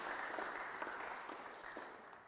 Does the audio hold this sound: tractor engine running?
no